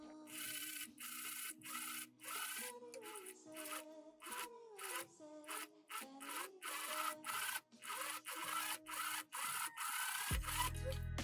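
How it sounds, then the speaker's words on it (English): A sewing machine backstitching the seam allowance onto the lining of a silk dress, running in short whirring bursts with brief stops between them, quiet and close, with no voices. "you do that by stitching the seam allowance onto the lining. That's called back stitching. And that's what I'm gonna do right now."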